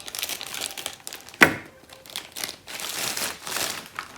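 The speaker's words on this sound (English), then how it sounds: "Okay, now I got my scissors here and we're going to cut what's inside." Scissors snip through the packaging of a Barbie Color Reveal doll, giving a crisp crinkling and crunching of plastic and card with one sharp cut standing out, close and fairly quiet with no talk.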